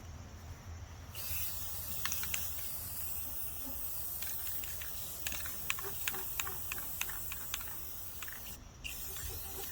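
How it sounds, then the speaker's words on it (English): A Rust-Oleum Gloss Protective Enamel aerosol can hisses in one long steady burst while painting a truck flag stand, with scattered sharp clicks and rattles, cutting off briefly near the start and end. "Gloss Protective Enamel Spray."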